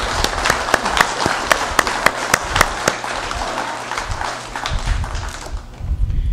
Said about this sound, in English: may I say and ask that we give all of our frontline workers a round of applause